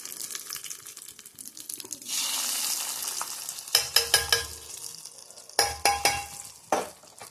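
Vadagam and curry leaves frying in hot tempering oil for a South Indian dish, a steady crackle and sizzle with sudden louder spitting bursts, along with a few clinks as the pan is stirred, and no talk.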